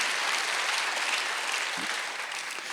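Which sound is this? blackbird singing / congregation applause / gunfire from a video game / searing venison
congregation applause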